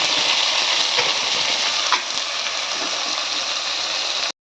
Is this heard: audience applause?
no